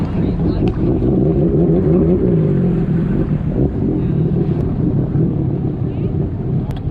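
A jet ski engine and exhaust rumble loudly and steadily up close on Lake Travis, with wind buffeting the microphone throughout.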